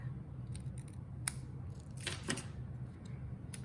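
Scissors snipping paper while crafting a handmade friend card, heard as a few quiet, sharp cuts scattered over a soft room background.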